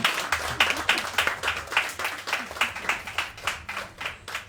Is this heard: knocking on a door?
no